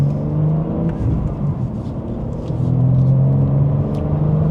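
Low, droning engine note from a 2025 BMW M4 with manual transmission pulling in second gear under mild acceleration, heard from the cabin, steady and rising slightly in pitch and loudness toward the end.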